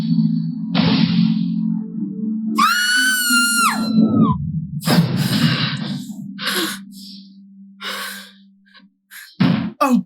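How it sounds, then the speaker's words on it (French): A girl screaming and wailing in long, drawn-out high cries, with sighs and gasping breaths between them and a few sharp bursts toward the end. "Elle est toujours en train de crier."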